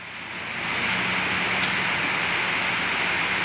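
Rain falls steadily as an even, hissing wash of noise that swells in during the first half second and then holds at a constant level.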